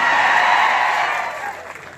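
Dense applause from a large audience at a political rally, a steady wash of clapping that thins out toward the end.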